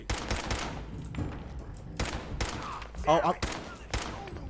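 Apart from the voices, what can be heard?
gunshots in the video game Fallout 4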